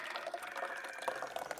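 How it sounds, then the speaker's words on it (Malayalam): Milk sherbet, an Iftar drink, is poured from one vessel into another to cool, giving a faint, steady liquid splashing and trickling. "ഇനി നമുക്ക് പെട്ടെന്ന് ചൂടാറാൻ വേണ്ടിയിട്ട് വേറൊരു പാത്രത്തിലേക്ക് ഒഴിച്ചു കൊടുക്കാം."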